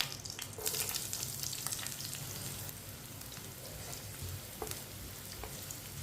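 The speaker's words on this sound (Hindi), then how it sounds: "प्याज को हल्का सा ब्राउन कर लेंगे।" Chopped onion and whole cumin fry in oil in a pan with a steady, close crackling sizzle, punctuated by a few spoon scrapes and clicks as it is stirred, with no talking.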